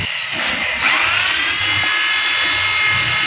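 A power drill with a hole saw bit cuts into ceramic tile during a toilet installation, giving a loud, continuous high-pitched whine and grinding that holds steadily throughout, with no voices.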